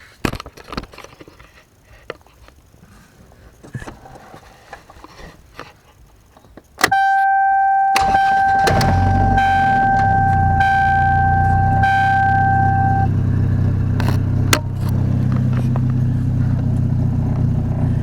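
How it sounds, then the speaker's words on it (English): A car engine started with two switches cranks with a whirring starter and tone, then catches and settles into a loud, steady idle that runs on without pause. "And that's how I start my car."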